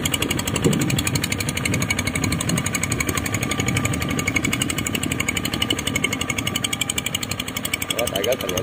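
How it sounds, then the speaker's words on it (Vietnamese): A homemade machine powered by an RT155 engine with no brakes runs steadily nearby, its rapid, even chugging and rattling engine note continuous throughout, with a voice talking over it. "Máy là máy tự chế này nè, máy chế chạy là không có thắng."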